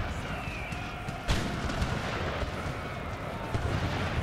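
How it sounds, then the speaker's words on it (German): Artillery firing in an Empire: Total War battle, a sharp boom standing out midway over a dense, continuous din of distant gunfire and battle noise. "Unsere eigene Artillerie macht Dinge, die mir nicht so gut gefallen hier. Ihr hört mal auf zu schießen."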